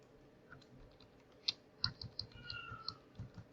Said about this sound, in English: I'm just going to use my arrow keys to move back and forth.